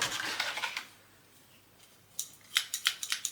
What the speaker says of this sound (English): And let me just undo this packet.